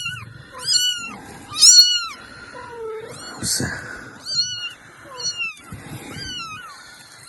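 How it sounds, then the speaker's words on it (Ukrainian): A kitten in a rural yard meows repeatedly in high, clear cries, several in quick succession, close and loud, with someone briefly speaking once. "Ось воно, залишив таке кошенятко десь."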